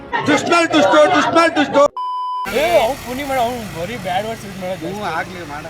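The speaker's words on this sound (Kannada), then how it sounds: "ಬೀಪ್ ಹಾಕ್ತೀನಿ" A censor beep, a steady pure tone lasting about half a second, cuts into lively talk, with voices speaking before and after it.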